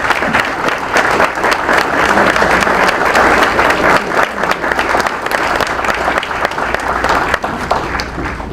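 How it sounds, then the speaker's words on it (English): A room full of people at a Republican women's club candidate forum gives a loud, sustained round of applause for two congressmen, dense clapping throughout with scattered cheers. "Let's give them another round of applause."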